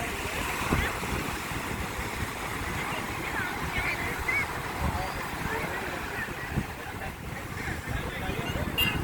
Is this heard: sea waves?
yes